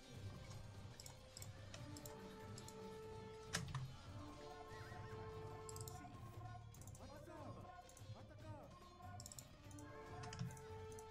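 Horses whinny and neigh over a busy game soundscape with hoofbeats and clicks, while a person talks over it.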